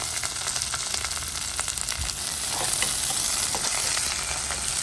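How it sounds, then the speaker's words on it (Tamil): Garlic, curry leaves and green chillies sautéing in hot oil for an eggplant dish: a dense, continuous crackling sizzle that holds steady throughout, close and loud, with no talking. "உள்ளி கருவேப்பில்லை பச்சை மிளகாய் மூன்றையும் போட போகிறேன் கொஞ்சம் வதங்கட்டும்"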